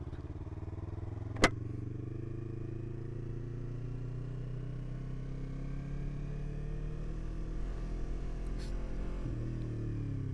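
A Yamaha R3 motorcycle revs under riding, its engine droning loudly and steadily with pitch sweeping up through the gears, plus wind rush and a sharp click early on.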